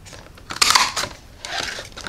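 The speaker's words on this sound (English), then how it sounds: "I'm going to use a punch. And I think I'm going to use my tailored tag." A craft punch bites through patterned bumblebee paper to cut a tailored tag shape, giving two short, close crunching snips separated by a brief pause.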